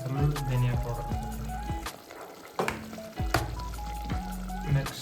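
Chicken biryani masala with garam masala, cumin and coriander powder bubbles in a pot, giving a soft, steady simmering sizzle with occasional stirring sounds while a person talks over it.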